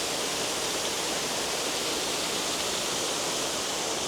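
The 4 Angels waterfall and its rapids pour continuously, a dense, unbroken hiss and roar heard up close with no pauses or voices.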